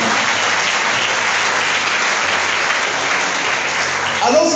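A congregation applauding and cheering in praise of the Lord at a French-language Catholic healing service, a loud continuous wash of clapping with no break.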